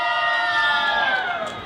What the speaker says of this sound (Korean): 박수 한번 쳐보겠습니다.